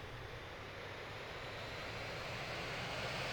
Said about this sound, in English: You can hear that engine firing up.